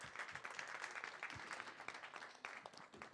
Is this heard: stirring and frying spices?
no